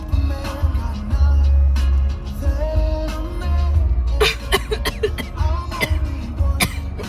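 A person coughs repeatedly in a loose, irregular series of harsh bursts, close and fairly loud, with a steady low background hum underneath.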